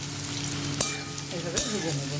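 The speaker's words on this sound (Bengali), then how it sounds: "ভেজে নিতে হবে এর মধ্যে কেটে রাখা পেঁয়াজটা দিয়ে দিলাম" Chopped onions with small bay leaves fry in hot oil in a pan, producing a close, steady crackling sizzle punctuated by two quick spatula scrapes.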